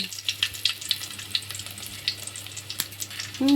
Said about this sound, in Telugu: అలా 4 చిన్నులపాయ రబ్బలు దంచి పోపులో పెట్టుకున్నాం ఫ్రెండ్స్.